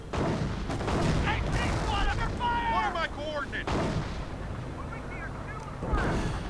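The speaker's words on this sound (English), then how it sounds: "And more artillery." Artillery fire rumbles through a 2v2 real-time war video game battle involving German forces and a Panther tank: repeated booming blasts and crackling impacts, with whistling tones over a dense, continuous battle din.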